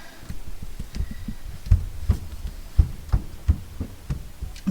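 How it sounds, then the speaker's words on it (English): A child's small feet stomp and run across the floor upstairs, making a series of muffled, irregular thuds. They sound dull and moderately near through the ceiling, with no talking. "I'm sorry if you can hear like little stomping footsteps."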